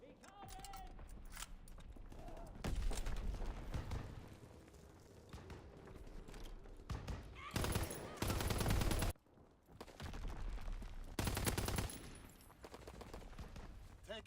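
Bursts of automatic gunfire from the VMG 1927 in the Call of Duty WWII video game, several loud sustained volleys with short gaps, over game audio and occasional voice callouts.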